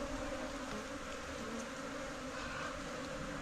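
Bees buzzing steadily around their hive at a home, a dense continuous drone with no clear breaks, close and fairly loud throughout.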